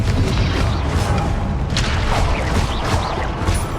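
A Confringo spell explosion in Hogwarts Legacy during an Ancient Magic trial: a loud, dense rumbling boom that rolls on through the whole stretch, with no talk.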